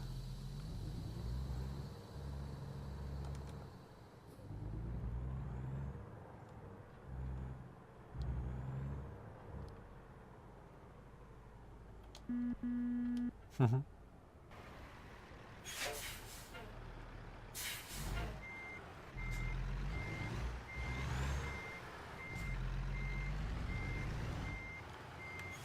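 A truck in the American Truck Simulator video game backs up to a trailer, its steady reversing beeps repeating over a low engine rumble, with a sharp hiss of air brakes midway and a voice speaking at times.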